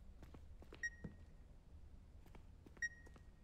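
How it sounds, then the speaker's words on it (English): An electronic device beeps in The Beast Inside video game, two short bright tones about two seconds apart, faint over a low ambient rumble with scattered small knocks. "Why are you beeping?"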